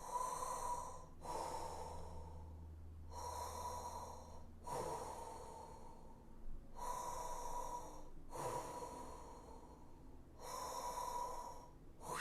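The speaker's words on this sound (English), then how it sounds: "Forceful breathing, kind of a steady, strong breath." Forceful, steady breaths drawn and pushed through a wide-open mouth during a meditation exercise, about six strong, even exhalations with short pauses between, close and clear with no talking.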